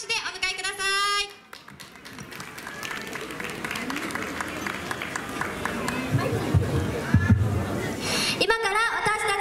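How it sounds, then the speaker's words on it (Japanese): Audience applause at a JA Dream Festival stage greets an idol unit as it comes out, building into a sustained, dense clapping swell. Voices speak briefly at the start and again as the clapping continues near the end. "大きな拍手でお迎えください。"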